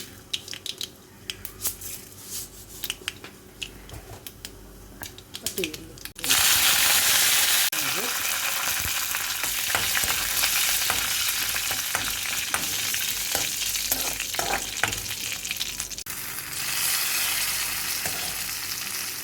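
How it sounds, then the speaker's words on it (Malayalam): Quiet clinks at first, then a sudden loud burst of hot coconut oil sizzling and popping that continues steadily as mustard seeds crackle in the pan. "വെളിച്ചെണ്ണ കാഞ്ഞ് നമ്മൾ കടുക് ഇടുകയാണ്"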